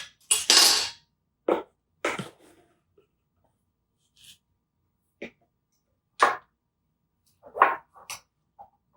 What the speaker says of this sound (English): I'm going to use this fork and cream it all together